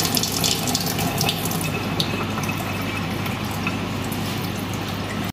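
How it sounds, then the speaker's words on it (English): Running water splashes steadily as laboratory glassware such as a wash bottle and measuring cylinder is rinsed with distilled water, a continuous close hiss of water into a sink with no talking. "we clean the scoop bottle with distilled water and other apparatus like measuring cylinder"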